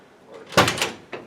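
A classic Ford Mustang car door shutting once with a solid thud, close by, with a lighter click just after as it settles against new door seals.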